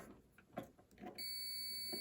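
A multimeter set to continuity on the switch contacts of a DeWalt DCV517 cordless wet/dry vacuum gives off a steady high-pitched beep. Quiet clicks and handling noises come first, then the tone holds for about a second, close and clear.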